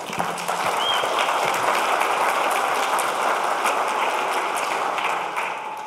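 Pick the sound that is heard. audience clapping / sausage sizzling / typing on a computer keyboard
audience clapping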